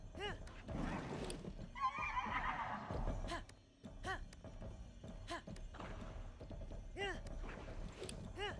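A horse whinnies several times in Zelda: Breath of the Wild, rising and falling calls repeating at intervals over a steady game soundscape with occasional thunks.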